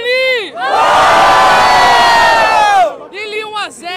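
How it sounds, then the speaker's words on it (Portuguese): A crowd at a Brazilian rap battle roars with loud sustained cheering and shouting for about two seconds, framed by a host's amplified voice before and after. "Barulho pra cima de Jessiquinha! Barulho pra cima de Lili!"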